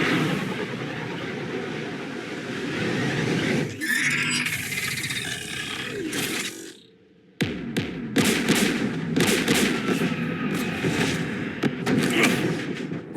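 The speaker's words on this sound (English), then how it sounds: "We're taking fire." Gunfire and explosions rattle through a battle in Mass Effect 3, sustained roaring combat noise with bursts of sharp shots, a brief lull midway, then renewed rapid firing close and loud.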